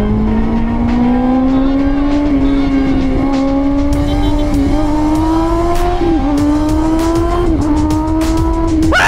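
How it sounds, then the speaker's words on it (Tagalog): A Kawasaki Ninja ZX-6R inline-four sport bike of about 130 horsepower accelerates down a straightaway at night, its loud, close engine screaming upward in pitch through several quick gear shifts. "Ang Kawasaki ZX-6R ay track-oriented pocket rocket or proper short bike na may 130 horsepower, inline 4 ito kaya super screamer"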